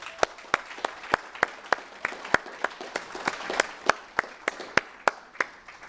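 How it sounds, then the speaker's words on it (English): Scattered clapping from a small audience at a presentation, a sparse run of distinct individual claps at an uneven rhythm, fairly close and picking up slightly toward the middle. "So we're going to give you all a round of applause."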